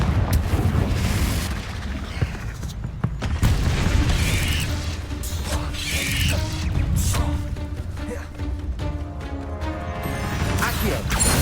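Confringo blasting spell in Hogwarts Legacy: repeated booming explosions and crashing impacts over dense rumbling game sound, with bursts of crackle and debris throughout.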